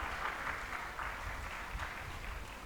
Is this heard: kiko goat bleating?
no